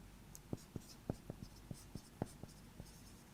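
A pen or chalk writes on a board during a mathematics lecture, giving about a dozen faint, close, irregular taps and strokes over quiet room noise.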